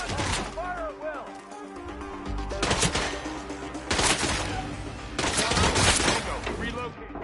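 Dense bursts of rapid gunfire crackle through a firefight in the video game Hitman 3, loud and close in repeated volleys, with shouted voices cutting in between the shots.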